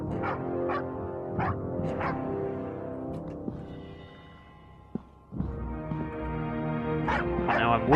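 A dog barks and growls in the video game Survival: Postapocalypse Now, several sharp barks early and again near the end over a tonal game backdrop, with someone talking between.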